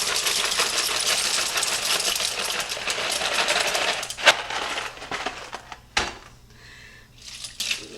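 Dry penne pasta, about 10 to 12 ounces, poured into a crockpot, a steady dense rattle and clatter for roughly four seconds, then a few scattered clicks and taps as the last pieces drop.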